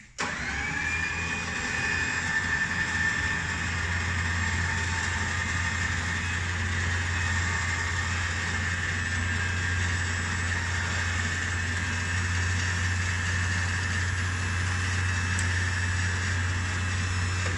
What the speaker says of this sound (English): Let's just spool it back in.